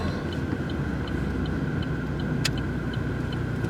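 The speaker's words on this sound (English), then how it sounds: "Let the 4 cylinders purr." Four-cylinder car engine purring at a steady low rumble while driving, heard from inside the cabin with constant road noise and one brief click.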